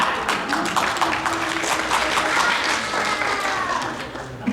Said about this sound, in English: I think that deserves a big clap.